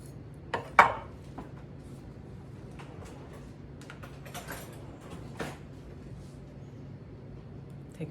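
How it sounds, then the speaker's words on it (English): A knife and spoon clink and scrape against a plate or board while an avocado is cut and sectioned for a kale and citrus salad, giving a few sharp taps and then soft, faint scraping. "we're gonna take the avocado and we're gonna section that out"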